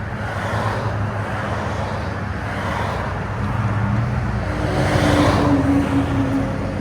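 A 2024 Toyota Tacoma with a 3.5L V6 and Flowmaster Super 10 dual-tip exhaust gives off a steady, deep droning rumble at a constant level close by.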